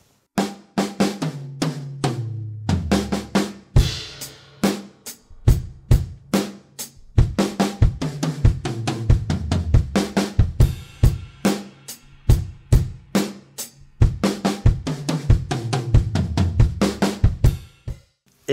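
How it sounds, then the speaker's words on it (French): A properly tuned drum kit in a room damped with foam panels, played in a lively groove, with punchy kicks, snare hits and tom fills, clear and close with no voices. "Voici le son de ma batterie réglée."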